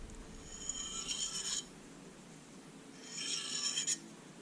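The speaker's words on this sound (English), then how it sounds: "just enough pressure to keep the steel in contact with the stone" Opinel carbon steel knife blade drawn across a sharpening stone with light pressure, giving two separate gritty rasping strokes, each about a second and a half long, close and fairly quiet with a pause between them.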